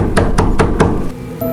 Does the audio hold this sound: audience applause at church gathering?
no